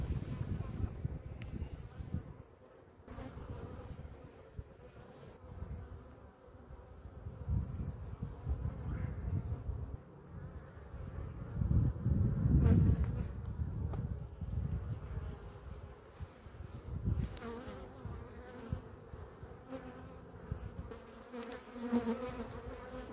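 Honey bees, drones among them, buzzing around an opened hive in Pennsylvania, a close continuous drone that swells and wavers as agitated bees fly about.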